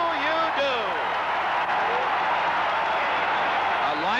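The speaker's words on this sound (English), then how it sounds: "The crowd going crazy." A stadium crowd roars steadily at a Patriots–Cowboys football game after a Harvey Martin interception. The cheering is loud and sustained throughout, with whistles rising above it and a voice speaking on top.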